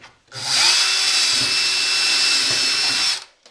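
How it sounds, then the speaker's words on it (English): A single sustained burst of an electric drill whirring at high speed through plastic, drilling a hole in a cat shelter's handle, loud and close, starting and stopping abruptly. "or drill one in the handle."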